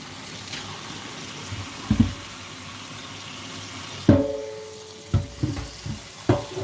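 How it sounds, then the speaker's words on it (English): Hot tap water running over a cast iron pan, a steady faint rush of flowing water punctuated by a few sharp clunks and knocks of the pan against the sink. "Let that hot water run right over it."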